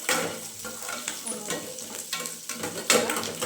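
Green chilies frying in a pan sizzle steadily while a utensil stirs and scrapes them in repeated strokes, close and fairly loud throughout.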